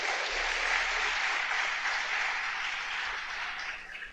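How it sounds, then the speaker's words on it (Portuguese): A church congregation applauds steadily for about four seconds, dense and fairly loud, a sustained wash of many hands clapping. "Se você quer, aplauda Jesus bem forte."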